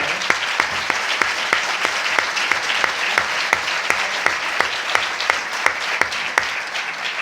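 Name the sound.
audience applause at a conference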